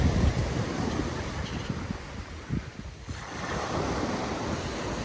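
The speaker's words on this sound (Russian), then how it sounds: "море спокойное" Calm Black Sea surf washing onto the shore at Sochi on a mild March evening, a steady soft wash of small waves with light wind noise, no voices.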